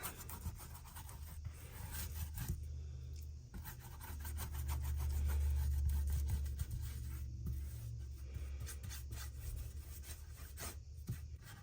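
Wax is wiped over a painted thrift-store tray with a cloth in soft, repeated rubbing strokes, faint and close against a low background hum.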